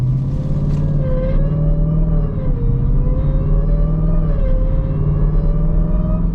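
A car driving on a road, alternately braking and accelerating, its engine dropping in pitch and then rising again several times, close and steady with no talk.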